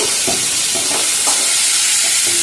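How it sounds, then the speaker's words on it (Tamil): Ivy gourd (kovakkai) sautéing in a hot pan gives a loud, steady sizzling hiss throughout, with a few soft rhythmic scrapes of stirring close by. "கோவக்காயை போட்டு நல்லா வதக்கிக்கலாம்"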